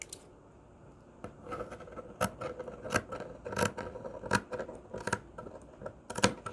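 Scissors slice a t-shirt into strips of yarn, making soft irregular snips and fabric rustles that grow a bit louder and more frequent, close up with no talking.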